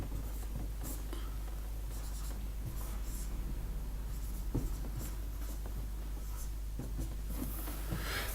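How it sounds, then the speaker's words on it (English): A standard deviation formula is written by hand with a pen on paper, giving a steady, faint scratching that runs throughout over a quiet background. "We'll write down the formula here."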